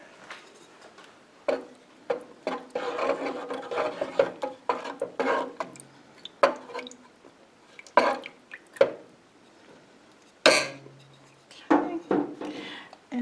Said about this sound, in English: Let's stir all that up.